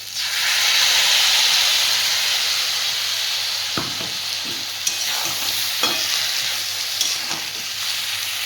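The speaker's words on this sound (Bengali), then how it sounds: "মশলাটা দিয়ে ভালো করে কষিয়ে নিয়েছি" Spice paste fries with banana and potato in a pan, a loud steady hiss and sizzle that fades slightly, broken by occasional scraping knocks of a spatula stirring.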